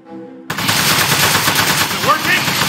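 Rapid automatic gunfire from the video game Aperture Desk Job hammers against a metal target, starting abruptly after a short quiet moment and continuing as a dense, loud burst with ringing metallic impacts.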